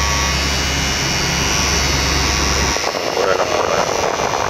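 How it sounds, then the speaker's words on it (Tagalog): A HIENA S-11 hair trimmer motor runs with a steady, even electric whine for a few seconds before a person starts talking over it. "Sakto lang yung motor. Sa trimmer kasi hindi kailangan sobrang lakas."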